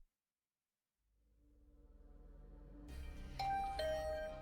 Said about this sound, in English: another sound echoed through my room. The doorbell.